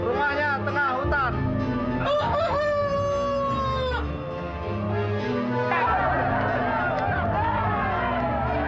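Rooster crowing several times over busy background sound, the drawn-out calls close and loud, with a voice that may be imitating the crow mixed in among other voices.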